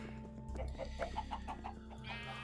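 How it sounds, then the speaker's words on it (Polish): Chickens cluck in a Minecraft farm pen, a series of short rhythmic game-sound clucks over a low steady background hum. "O, wy paskudne kurczaki."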